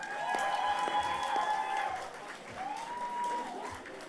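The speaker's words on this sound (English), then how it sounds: "give a big round of applause for the amazing performances we have just witnessed" Audience applause at the 2013 Excellence in Volunteering Awards ceremony, a dense burst of clapping with some whoops and tonal cheers over the first two seconds, then a softer continuing patter.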